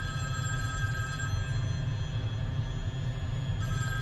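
A telephone rings continuously, a steady electronic tone over a low rumbling background hum, with no voices.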